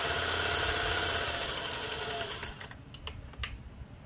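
A Singer 401A sewing machine runs and stitches with a dense, steady mechanical whir and rapid needle rhythm for about two and a half seconds, then stops, leaving a few sharp clicks.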